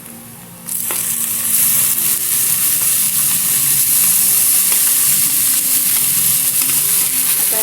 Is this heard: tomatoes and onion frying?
yes